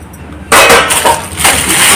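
Thick glass plates and drinking glasses clink and clatter together, with a sudden loud burst of close, bright rattling that keeps going in uneven waves after a quiet start.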